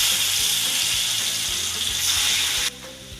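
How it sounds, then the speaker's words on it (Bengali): Fish coated with salt and turmeric fries in hot mustard oil in a wok, a dense steady sizzle close by that drops away sharply near the end. "এবার নুন হলুদ মাখানো মাছটা হালকা করে ভেজে নেব"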